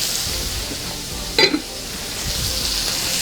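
Jumbo shrimp fry in a pan with a steady, close sizzle and hiss, broken by a brief clatter of utensil or pan near the middle.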